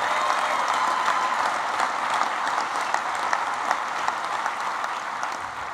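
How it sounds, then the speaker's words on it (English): A large audience at a union legislative conference gives a sustained round of applause, many hands clapping in a dense, even wash that holds steady throughout with no talking. "Let's give him a round of applause as well."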